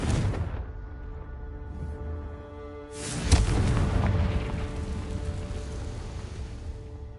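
A fire-spell explosion from Hogwarts Legacy, a booming blast that erupts loud and close, decays, then a second heavier detonation crashes in and leaves a long rumbling, crackling tail.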